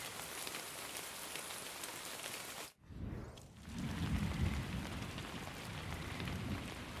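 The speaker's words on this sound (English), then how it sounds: "All this rain reminds me of something" Steady rain hisses across a surface in the Pig Detective video game, dense and constant, briefly cutting out for a moment before returning with a low rumbling undertone.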